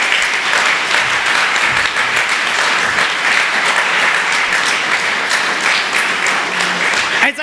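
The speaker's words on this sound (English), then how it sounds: "a tremendous round of applause for all 5 candidates who joined us this evening" Loud, sustained applause from a theater crowd for five mayoral candidates at an improv comedy forum, a dense wash of clapping holding steady until it cuts off at the very end.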